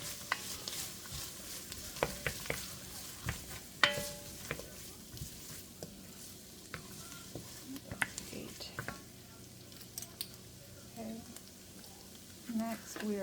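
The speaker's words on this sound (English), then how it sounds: "Give that a stir if you need to so nothing sticks." A spoon stirs homemade chicken noodle soup seasoned with turmeric in a pot, making soft, intermittent scrapes and gentle sloshing, with a person talking over it.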